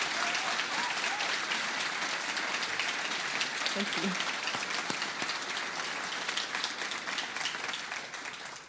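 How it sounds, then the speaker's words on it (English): An audience at a talk applauds the speaker in a long, even wash of clapping that tapers off at the close, while a voice briefly speaks over it. "Would you please give her a round of applause?"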